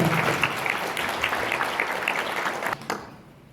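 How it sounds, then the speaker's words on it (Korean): An audience claps at a corporate founding-anniversary awards ceremony, a dense, steady patter of many hands that thins out and stops near the end, leaving quiet room tone. "박수로 모시도록 하겠습니다"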